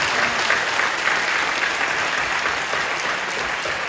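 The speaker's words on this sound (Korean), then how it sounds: "아이들에게 한번 박수 한번 해주세요." A church congregation applauds the young people and students during a worship service, a thick, steady wash of clapping that holds at an even, fairly loud level throughout without speech.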